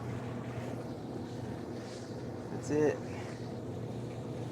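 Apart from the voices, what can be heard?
Whirlpool dryer drum spinning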